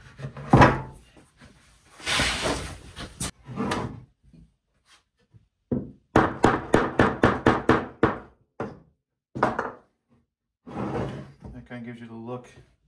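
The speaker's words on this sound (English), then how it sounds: "So I'm gonna have to get a hammer." A quick series of sharp wooden knocks, about eight evenly spaced hammer taps on wooden staircase panel trim, with short bursts of talking before and after.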